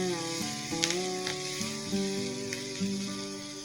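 Curry leaves sizzle and crackle in hot oil for tomato chutney, a steady close frying hiss with brief louder pops, heard under background music and with no talking.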